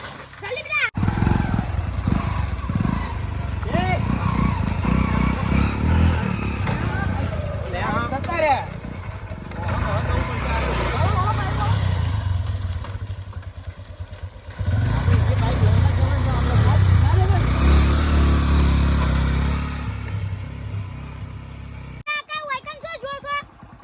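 A motorcycle rides around nearby, its engine droning steadily and rising and falling in pitch, with people talking loudly over it most of the time.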